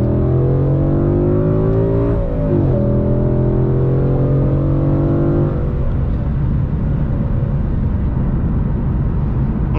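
Ford Mustang GT 5.0 V8 accelerating hard, a loud deep engine note rising steadily in pitch, dropping on a gear change, then climbing again, heard from inside with no talking.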